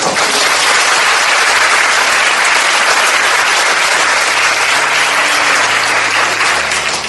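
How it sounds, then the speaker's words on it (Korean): Sustained applause from a church audience at a book presentation event, steady and loud throughout with no talking over it. "감사의 박수를 먼저"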